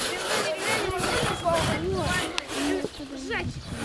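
Wood being hand sawn by a girl outdoors, a steady rasping back-and-forth stroke under overlapping chatter from several people nearby.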